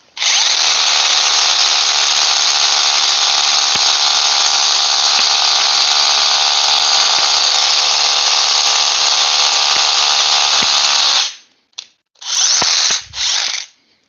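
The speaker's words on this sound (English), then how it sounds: "Don't need to add weight when you're using a rotary hammer." A Bosch cordless rotary hammer breaks concrete in one loud, continuous hammering drive of about eleven seconds, followed by two short bursts. No one speaks.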